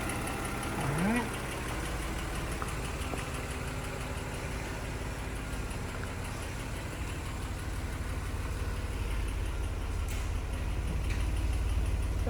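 Lexus Toyota car engine idling with a light ticking, a steady mid-low drone held at constant level throughout, with a brief tonal sweep near the start.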